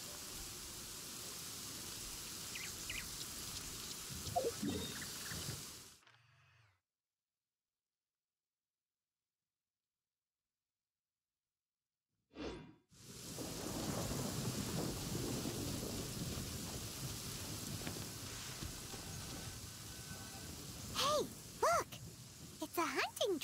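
Steady rain hisses in Genshin Impact, cuts to several seconds of silence, then returns with a sharp thunder crack and a continuous downpour, with a few brief tonal game sounds near the end.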